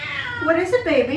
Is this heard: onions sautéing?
no